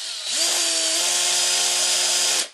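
A power drill whirs steadily at its slow speed of about 600 RPM for about two seconds, close and constant, then winds down abruptly.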